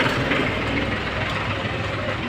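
A tractor engine idles at a tractor market: a steady, loud, low rumble runs unbroken throughout, with no speech.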